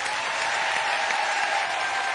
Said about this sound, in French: On peut quand même applaudir très très fort nos invités.